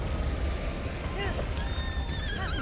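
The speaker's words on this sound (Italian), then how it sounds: "Oh, il cavallo" A horse in the Zelda: Breath of the Wild video game gives a brief whinny over dense, loud game action and background noise.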